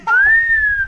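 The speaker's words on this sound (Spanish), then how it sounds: "Te van a chiflar." One person whistles a single clear, sustained note, short and close, rising slightly and then holding steady before fading out.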